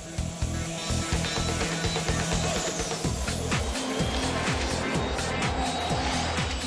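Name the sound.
motorcycle racing a jet plane in an acceleration test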